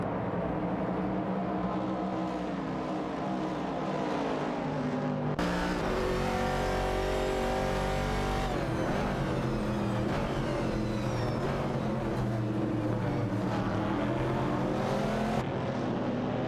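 Racing engines of an AMC Javelin 70 and a Mercury Cougar roar continuously in a video game race, whining up and down through the gears in rising and falling sweeps as cars jostle close by.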